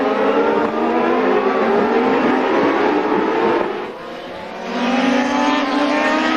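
IndyCar race cars at the 2001 Honda Grand Prix of Monterey scream past on the circuit in a steady, loud engine roar that dips briefly and then surges again as more cars follow, with no voices.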